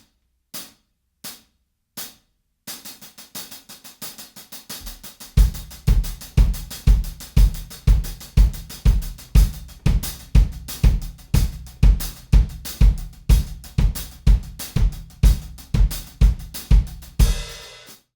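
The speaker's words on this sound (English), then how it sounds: "you'll hear the polyrhythm of the 3 on the kick and the 4 on the hi-hat" Drum kit played alone, kick drum pounding three even beats against four on the hi-hat, a steady layered polyrhythm after a few sparse opening hits, loud and close.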